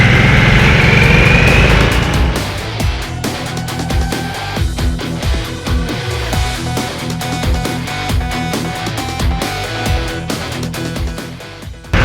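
A Harley-Davidson Nightster motorcycle climbs a hill road at Bugaksan Skyway. Its engine runs loud and close with a steady rhythmic throb under rushing wind, and the revs rise and fall, with no talking.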